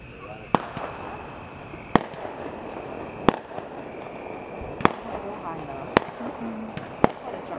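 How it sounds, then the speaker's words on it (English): Fourth of July fireworks show, with six sharp booming bursts spaced a second or so apart that echo across a cove, over a bed of crowd noise and nearby voices. "You like the fireworks show?"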